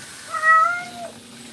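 A Ragdoll cat being groomed lets out a single drawn-out meow, close and clear against a quiet room.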